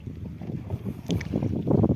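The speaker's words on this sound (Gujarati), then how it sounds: "ધીમે ધીમે અમારી હોડી હેલી જાય છે" A small boat being rowed moves slowly across the water. Low, uneven sloshing and rumbling swell in and out under gusts of wind buffeting the microphone, with no speech.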